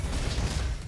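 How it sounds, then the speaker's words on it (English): A brief mechanical clack and ratcheting whir of a weapon reloading in the shooter game Roboquest, loud and close in a single short burst with no talk. "Why did I reload there?"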